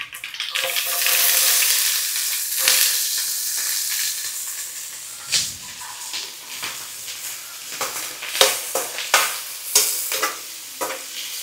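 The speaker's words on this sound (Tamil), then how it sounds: "வெங்காயத்தை போட்டுருவோம்." Onions sizzle and fry in a hot pan in a home kitchen, a steady bright hiss with bursts of stirring and scraping that grow more frequent and crackly toward the end, with no talking.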